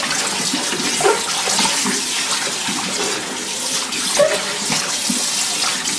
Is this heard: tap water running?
yes